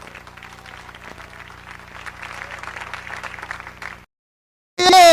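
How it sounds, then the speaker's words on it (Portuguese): A church congregation applauding during a sermon, a steady ripple of many hands clapping at moderate distance for about four seconds, then a short silence and a burst of loud amplified sound. "Aplauda o nome de Jesus que eu vou concluir"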